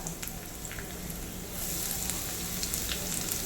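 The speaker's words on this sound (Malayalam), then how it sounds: "കപ്പലണ്ടിയും മുന്തിരി ഫ്രൈ ആയിട്ടുണ്ട് കൂടെ നമുക്ക് കുറച്ച് തേങ്ങാപ്പീരയും കൂടി ഇട്ട് കൊടുക്കാം" Peanuts, raisins and grated coconut fry in a pan with a soft, continuous sizzle that swells slightly as the coconut is added, with faint crackles and light stirring.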